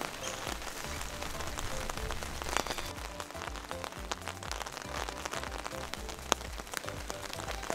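Steady rain falls outdoors at a wildlife park in Australia, a dense, even patter of drops on surfaces with occasional sharper splashes, moderately quiet and continuous.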